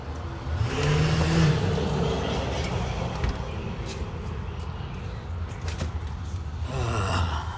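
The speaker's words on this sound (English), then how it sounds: "somebody had to rev their engine" Nearby car engine revving and accelerating, a steady broadband roar that holds through most of the stretch and swells again near the end, heard outdoors at a tailgate gathering.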